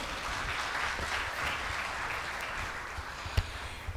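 Audience applause for a panel at an economic forum on investing in Congo, a soft, steady wash of many hands clapping from across the hall, somewhat distant, with a sharper clap or two near the end.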